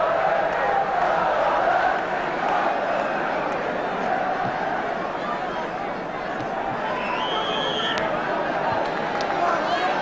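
Football crowd at a 1978/79 Arsenal versus Ipswich league match keeps up a steady broad roar of applause and cheering across the whole stretch, distant and dense, with a commentator faintly talking over it.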